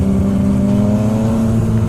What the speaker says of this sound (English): 2005 Mustang